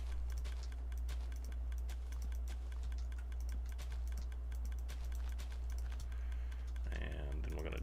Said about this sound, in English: we can hit this button and that clicking will stop